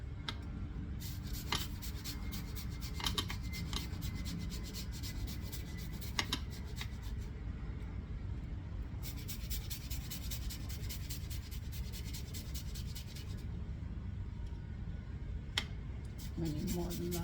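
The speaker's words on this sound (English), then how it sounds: "I'm going to grate some onion in this." An onion is rubbed against a very fine grater, producing a continuous, close rasping scrape with a steady, even texture for the whole stretch.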